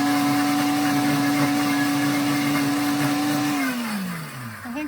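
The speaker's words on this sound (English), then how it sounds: "This is a really, really powerful blender." A very powerful blender whirs loud and steady while blending Peruvian green sauce for roast chicken, its motor pitch sliding down as it is switched off near the end.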